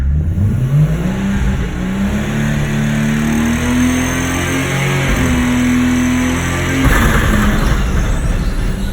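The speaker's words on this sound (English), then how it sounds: "chuck in first gear. Again. Rev it up." A car held in first gear for a burnout, its engine loud and close, revving in a long rising drone that climbs in pitch, then surges and roars harder near the end, with no talking over it.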